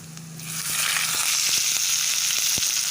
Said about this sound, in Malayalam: കടുക് പൊട്ടി തുടങ്ങിയിട്ടുണ്ട്. ഇനി ഉള്ളി അരിഞ്ഞ് വെച്ച് കൊടുക്കാം.